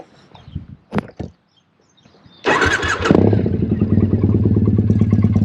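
A Triumph T100 motorcycle, a 2005 bike built as a 1965 clone, fitted with pea shooter mufflers, sounds a few clicks and clunks, then fires up loudly and settles into a steady, throbbing idle up close.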